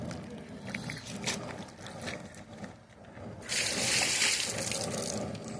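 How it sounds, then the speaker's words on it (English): Water from boiled saltfish is dumped out, first some sloshing and trickling, then a loud steady rushing pour in the last couple of seconds, close by. "The water is dumped."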